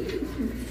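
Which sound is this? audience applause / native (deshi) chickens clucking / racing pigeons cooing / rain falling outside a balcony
racing pigeons cooing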